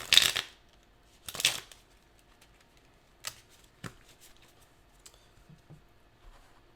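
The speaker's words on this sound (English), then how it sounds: "I hope my shuffling doesn't hurt your ears." Tarot cards shuffled close to a sensitive microphone: two loud riffling bursts at the start, then sparse soft taps and card flicks in a quiet room.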